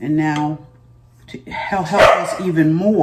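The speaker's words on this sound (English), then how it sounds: "I'm sorry, y'all. That's my dog." A pet dog barks indoors in a home kitchen, a few sharp barks mixed in with someone talking over it.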